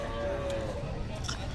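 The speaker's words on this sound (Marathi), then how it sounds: "पाहू शकता खिल्लार गाय" A Khillar cow moos at a busy cattle market, one drawn-out low call near the start over crowd murmur and faint voices.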